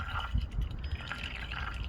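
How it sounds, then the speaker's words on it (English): Warm melted butter being poured, a soft, continuous liquid trickle with faint gurgling, close and quiet over low background rumble, with no voices. "we can tell our butter there is warm, so we're going to pour that guy in"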